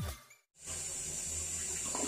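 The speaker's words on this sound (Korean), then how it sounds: "양변기 물을 내렸을 때 이렇게 시원하게 내려가줘야 정상입니다." A household toilet flushes, water gushing and rushing steadily after a brief silent gap, a close continuous wash of running water with no talk.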